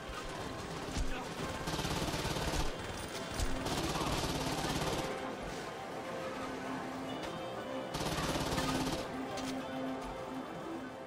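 Gunfire in the video game Saints Row 2, loud bursts of shots in several sustained stretches with brief lulls between, busy game noise running throughout.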